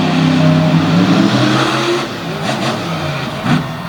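A brand-new Chevrolet off-road race truck revs hard on launch at an outlaw off-road event at HorsePower Park, its loud engine climbing in pitch, then easing and surging again as it takes the infield.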